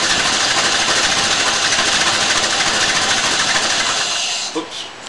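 A 1929 Ford Model A engine runs cold before warming up, a loud steady rapid mechanical clatter that continues for several seconds, then drops in level near the end with a couple of brief knocks.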